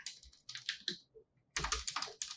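Close, quiet typing on a computer keyboard comes in two quick bursts of rapid key clicks, split by a short pause.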